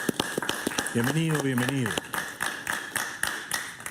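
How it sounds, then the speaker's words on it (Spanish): A studio audience claps for a political talk-show guest, a Bolivian writer and political analyst, with scattered hand claps running throughout under a host's spoken welcome. "Un aplauso para él,"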